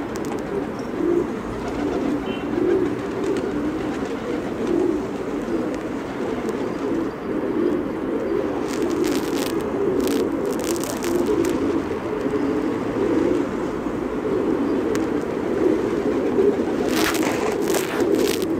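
A large mixed flock of pigeons coos continuously in a low, steady murmur, with occasional brief wing-flutter bursts as birds land nearby.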